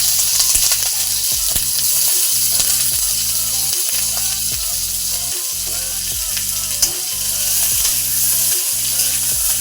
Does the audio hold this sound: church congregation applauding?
no